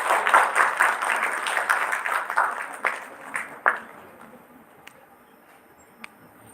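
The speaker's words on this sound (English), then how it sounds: "Please give him a huge round of applause." An audience at a dental program event applauds, moderate clapping that is strongest at first, then thins to scattered claps and fades into near quiet with a last stray clap.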